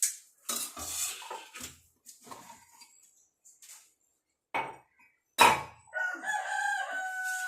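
A rooster crows a few times at close range in a rural home setting, brief bursts separated by quiet gaps, with a clink of dishes and pots among the calls.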